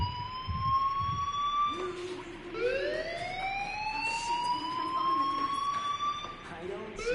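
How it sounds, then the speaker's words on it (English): A wailing fire alarm from the video game Life is Strange sounds clearly and continuously, its rising, sliding siren tones steady throughout, with faint voices beneath it. "do you hear that fire alarm?"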